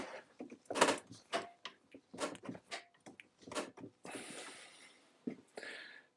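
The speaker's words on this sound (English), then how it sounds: "Now you can hear some creaking going on." A Bessey woodworking clamp tightened under heavy pressure gives off a rapid series of close creaks, clicks and ratcheting snaps, irregular and fairly quiet, with a longer grinding strain near the end.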